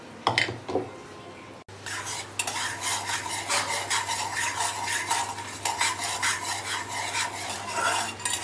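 Sugar syrup being stirred in a pan with a utensil, giving steady scraping and rubbing strokes close by, with a faint low hum underneath throughout.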